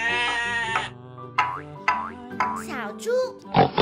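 A toy sheep gives electronic bleating calls, a series of warbling, springy cries repeated close by, with a sharp sound at the very end.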